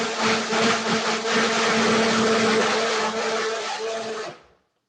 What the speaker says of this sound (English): this is our favorite little blender. It makes a single serving, so we can just walk away and our shake is done in here.